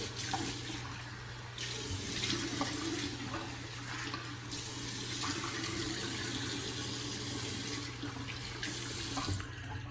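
Tap water runs steadily into a sink as someone rinses off while wet shaving with a Stainless Karve Christopher Bradley razor, a close, continuous splashing gush with small shifts as hands move under the stream.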